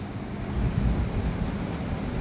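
Steady wind blows outdoors at a rural forest cooking spot where country duck curry is being made, a continuous low rumbling rush with mild gusts and no voices.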